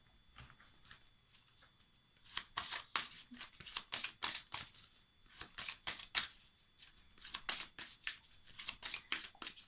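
Tarot oracle cards are shuffled and drawn from a deck, making bursts of crisp riffling and flicking that come in quick clusters with short pauses between them, close and moderately loud.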